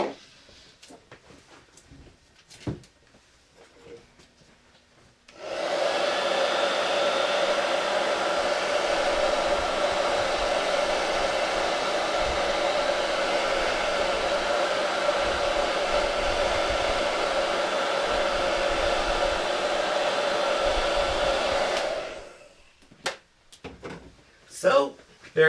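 A hair dryer blows steadily for about sixteen seconds to dry a Chalk Couture silkscreen transfer, a loud even whoosh starting and stopping abruptly, with soft handling noises and talk before and after.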